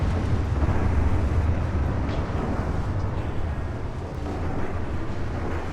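Naval gunfire in the Ultimate Admiral Dreadnoughts warship game, heard as a continuous loud, low rumbling roar of distant heavy guns and explosions, with no voices.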